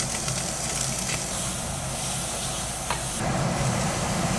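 Garlic and onion sizzle in hot rendered pork fat, a dense, steady frying hiss with faint crackles throughout, close up and without talk.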